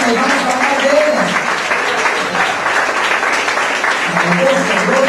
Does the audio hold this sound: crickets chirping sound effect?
no